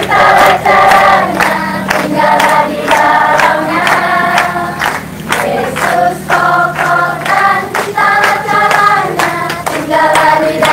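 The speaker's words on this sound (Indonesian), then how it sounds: "suka menyanyi 3, 4 boleh sambil tepuk tangan" A church congregation claps along in a steady rhythm while singing, loud and close, the regular hand claps punctuating the sung melody throughout.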